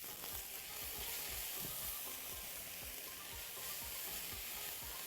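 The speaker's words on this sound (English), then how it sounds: "Then we added the garlic and onions to give them a quick sauté, just like you see here." Garlic and onions sauté in a little oil in a pan for a Middle Eastern eggplant and minced meat bake, giving a steady soft sizzling hiss with regular light stirring scrapes, close and fairly quiet, no voices.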